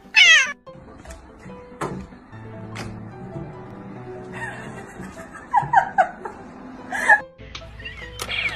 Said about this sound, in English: If you're happy and you know it, say meow.